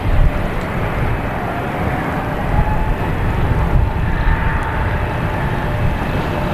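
A JetBlue Airbus A220 airliner passes at Boston Logan Airport, its engines a steady, loud roar that swells slightly midway and holds throughout without speech.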